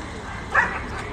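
A puppy for sale at Odessa's old animal market gives a single short yip, close and moderately loud over market background noise, with people talking nearby.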